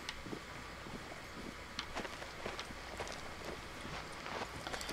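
Horse hooves clip-clopping in Far Cry 6, a soft, uneven patter of steps under a steady background hiss, fairly quiet and continuous.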